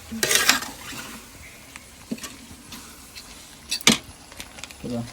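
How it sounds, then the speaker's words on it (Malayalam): A spoon scrapes and clinks against a pot as yogurt is stirred into biryani masala, scattered metallic knocks with soft wet mixing sounds in between, fairly close with quiet talk around. "തൈര് കൂടി ഇത് കുഴിക്കാൻ പോവാണ് ഇപ്പോൾ തൈര് പറഞ്ഞു ഇനി ഇളക്കട്ടെ മൊത്തത്തിൽ മിക്സ് ആക്കുക"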